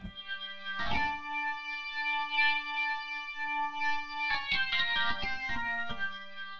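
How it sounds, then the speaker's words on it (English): A Hammond tone wheel organ plays sustained chords with a rich, slightly swirling tone, shifting between chords, with no voices. "I'm going to switch that back to tone wheel because I kind of like the Hammond sound"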